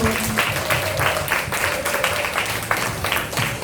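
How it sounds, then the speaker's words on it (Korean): Applause for a child at a summer Bible school children's play festival: a group clapping steadily for a few seconds in an indoor room, with faint voices mixed in. "박수."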